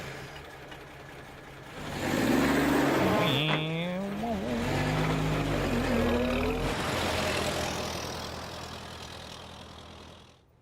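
A car drives at night in a video game, its engine rising from a low hum into a loud, sustained drone with a wavering tone, then fading gradually toward the end.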